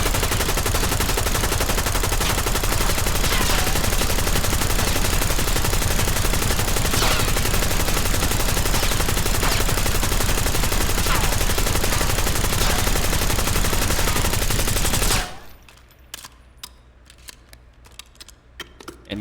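An automatic weapon in Call of Duty Black Ops 6 empties a full magazine in one loud, continuous rapid-fire burst lasting about fifteen seconds, then stops abruptly, leaving sparse faint clicks and handling noises.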